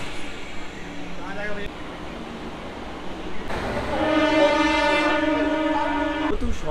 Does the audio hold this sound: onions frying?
no